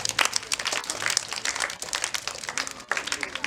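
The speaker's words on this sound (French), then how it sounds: "Bravo, si vous pouvez applaudir pour vous-même." An audience at a church gathering applauds, dense rapid hand clapping from many people close by, steady and loud throughout with no speech over it.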